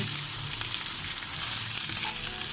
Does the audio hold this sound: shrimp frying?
yes